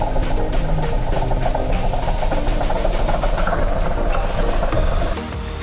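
A small river ferry boat's engine in Dhaka drones loudly and steadily with a rapid rattling throb, close by, then drops in level near the end; no speech.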